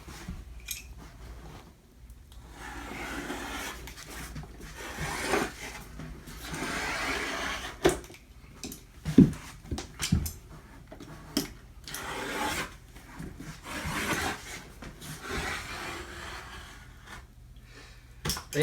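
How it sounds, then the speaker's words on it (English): A utility knife cuts old sheet vinyl flooring into strips for removal, giving intermittent scraping and slicing strokes with rubbing and handling noises, near and moderately loud. "cut your sheet vinyl into strips about this wide."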